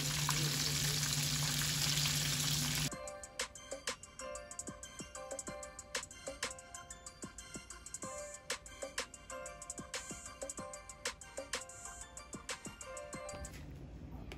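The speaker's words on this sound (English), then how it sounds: "we're going to fry these for 2 minutes on each side or until it's golden brown" Homemade fish sticks fry in oil in a pan with a soft, crackling sizzle and scattered pops, following a louder burst of noise at the start.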